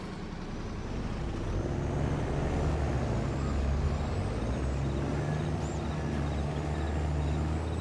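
Trucks idle and rumble in traffic in the farming video game Farming Simulator 22, with a steady low engine drone and faint whistling air-brake tones over it.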